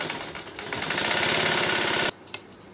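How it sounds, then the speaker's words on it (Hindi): Domestic sewing machine stitching the shoulder seam of a small boy's kurta, a close, loud, rapid mechanical chatter that runs steadily for about two seconds, then stops abruptly, followed by a single soft click. "और ये अब मैं कंधे की सिलाई लगा रही हूँ"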